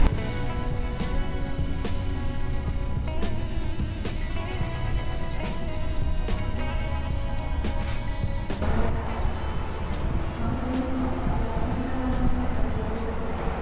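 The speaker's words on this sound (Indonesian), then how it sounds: "ini di sekitar area roda kereta ya, ini suspensinya nyaman, lembut banget ya" Interior rumble of the rear car of the Kutojaya Selatan passenger train running along the track near the wheels, a steady loud low roar with scattered sharp rail clicks and knocks throughout.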